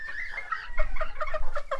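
A Modern Game hen clucks in a quick series of short, close, clear notes, about eight clucks in under two seconds, with no talking.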